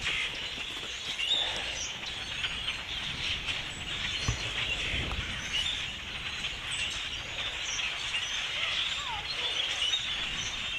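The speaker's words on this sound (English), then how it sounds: "Some crazy bird migration or something going on. Came outside and all the grackles are everywhere." A huge migrating flock of grackles calls all around outdoors, a dense, steady wash of squeaks, chatter and chirps with a couple of low thumps underneath.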